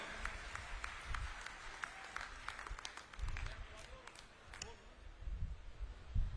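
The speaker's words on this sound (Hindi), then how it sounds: "एक बार जोरदार तालियां बजाकर माननीय मुख्यमंत्री जी का स्वागत करें" Scattered clapping from a crowd at an outdoor political rally in Jhojhu Kalan, Badhra, continues steadily under a loudspeaker voice, fairly distant and moderate in volume.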